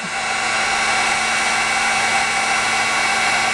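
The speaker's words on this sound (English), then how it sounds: "little by little I'm coming down with the heat gun so that I don't blow away these granules of the ultra thick embossing powder" A heat gun blows steadily and close, melting ultra thick embossing powder for watercolor journal masking, a continuous even whooshing hum with no pauses and no voices.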